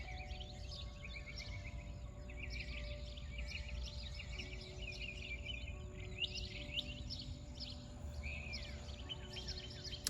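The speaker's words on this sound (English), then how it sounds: "Hopefully you can hear all the birds." Birds sing and chirp steadily in a quiet backyard, many overlapping calls at moderate distance over a soft low hum, with no talking.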